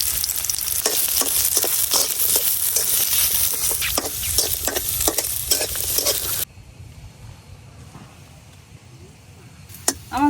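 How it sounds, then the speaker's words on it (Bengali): Garlic and onion frying lightly in oil in a kadai, a steady dense sizzle with crackling bursts that drops to a quieter simmer partway through, close and loud with no talk. "এখন এই তেলের মধ্যে রসুন আর পেঁয়াজ হালকা করে ভাজে নিলাম।"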